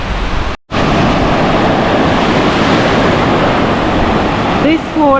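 Surf at a beach in 21-degree water, a continuous loud wash of breaking waves with heavy wind rumble on the microphone, a brief dropout near the start and faint voices toward the end.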